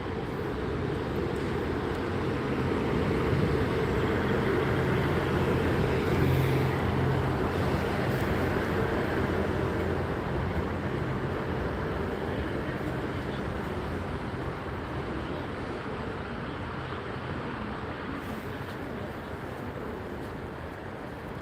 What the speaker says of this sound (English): that train definitely sounds really good